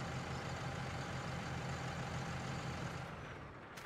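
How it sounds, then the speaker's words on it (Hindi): New Holland tractor engine in the Farming Simulator 19 video game runs at a steady idle, a continuous low diesel rumble with broadband mechanical noise, fading slightly near the end. "अब शायद न्यू हॉलैंड ऑन हो गया है शायद हमारा।"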